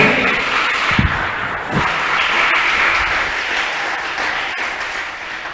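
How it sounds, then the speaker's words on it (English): A church congregation gives a clap offering after a sermon, with dense, steady applause filling the room and carrying on evenly for several seconds. "Somebody give God a clap offering."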